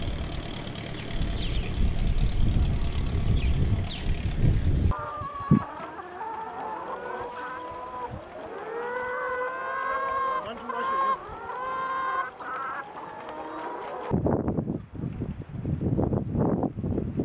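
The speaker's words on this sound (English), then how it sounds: "Here we are carrying out a trial where we are using three breeds of chickens." Chickens from a three-breed poultry farm trial cluck loudly and repeatedly at close range in a busy, overlapping flock, with farmyard noise and brief voices at the start and end.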